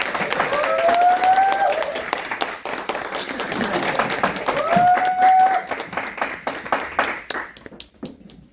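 Audience applause welcoming a presenter onstage at a Korean business briefing, a dense, steady wash of clapping lasting several seconds with faint tonal whistles rising over it before it thins out near the end.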